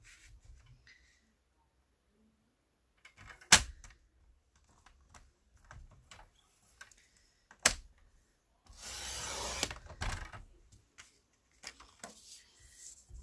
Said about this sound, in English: I'm going to cut our basic white at 5